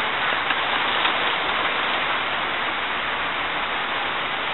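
Steady rain falls in bright sunshine in a dense, even hiss, with no other sounds standing out.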